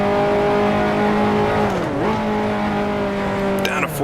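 A 1955 Formula One race car in Grand Prix Legends roars at steady high revs, then dips and blips as it downshifts near the two-second mark, with a rising rev and a brief tire chirp at the end.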